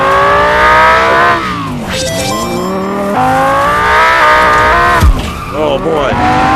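A toy race car in Micro Machines VR whines and revs continuously with rising and falling engine pitch and brief tire squeals, loud and close, with a person talking over it.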